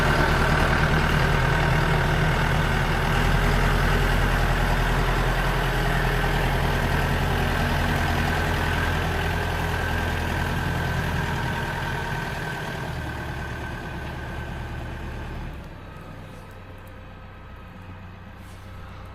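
A tractor engine idles steadily and close by, a low continuous rumble that holds level for most of the stretch before dropping off near the end.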